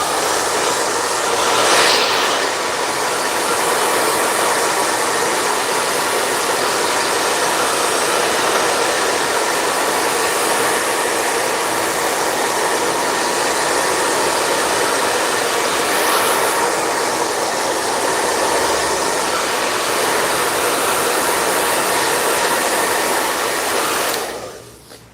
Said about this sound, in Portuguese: Vou pegar o secador só para limpar bem ele.